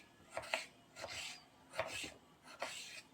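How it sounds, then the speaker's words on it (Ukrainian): A knife slices an avocado into strips on a board, four soft separate cuts at even intervals, close and quiet with no talking. "Ріжемо авокадо на смужечки"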